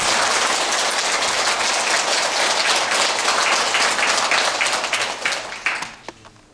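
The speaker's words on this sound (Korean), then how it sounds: "불자여러분들께서는 모두 큰 박수로 큰 스님을 환영해 주십니다." A Buddhist audience at a New Year dharma assembly applauds to welcome a senior monk, dense clapping that holds loud and steady, then thins into a few scattered claps and dies away.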